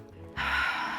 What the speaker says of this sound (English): and just breathe in and out